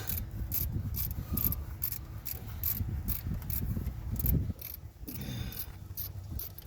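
A wrench ratchets slowly while someone adjusts the idle air control valve on a 1997 second-generation Dodge Ram with a rough idle and stalling, a close, rhythmic series of clicks and grinding turns with no voices.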